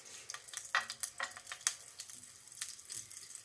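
Buttered crumpet rings frying in a glug of vegetable oil in a pan on gentle heat, giving a soft, steady crackle and sizzle with scattered pops.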